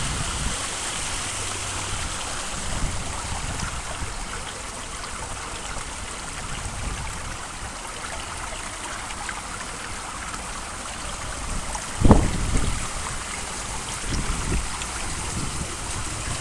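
A garden waterfall by a home's front entrance rushes and splashes in a constant, loud wash of falling water, with a brief thump near the end.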